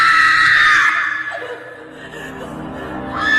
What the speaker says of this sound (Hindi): वो जोर जोर से चीखने लगी।